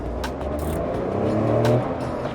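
A Tata Nexon XZ+ compact SUV accelerating in sport drive mode, a steady engine roar that builds and swells, heard from inside and close by.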